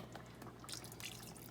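Chicken broth is poured into a pot of chicken cacciatore, a steady, soft liquid splashing and trickling over a low kitchen hum.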